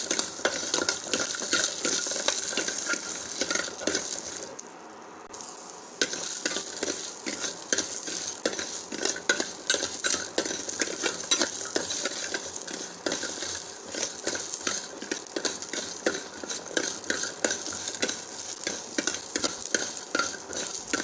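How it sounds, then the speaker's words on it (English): Shallots, coriander seeds and garlic frying in coconut oil, a continuous close sizzle with frequent scraping and stirring clatter and a brief quieter gap partway through, without speech. "This shallots, dhania seeds and garlic, they have to get fried half."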